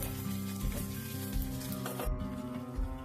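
Garlic sizzles steadily in hot oil in a pan for a festive Dasara holige saaru, a close, even crackle with a low hum underneath and no talking.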